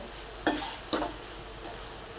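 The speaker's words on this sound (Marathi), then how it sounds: "मंद आचेवरच परतून घ्यायचं" Cooked rice for schezwan fried rice stirred in a pan over a low flame: three short, quiet spatula scrapes against a faint background hiss.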